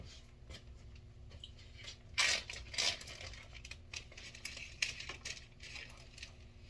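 A Ziploc plastic bag crinkles and rustles as it is grabbed and handled in a garage, with close, irregular crackling bursts and a few sharper crinkles.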